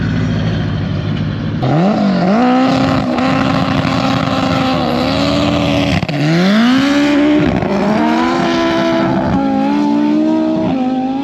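A Honda Civic races a twin-turbo Lamborghini, with loud, close engine howls rising in pitch through repeated gear shifts, dropping and climbing again as the cars accelerate hard.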